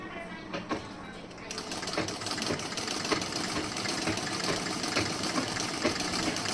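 Sewing machine stitching around the neckline of a bridal blouse, starting with a lighter patter and settling into a continuous close mechanical whir, while someone speaks over it.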